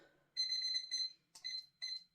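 A kitchen timer being set while batch cooking bread dough beeps in a run of rapid electronic pips, then a few shorter separate beep bursts, clear and close in a quiet room.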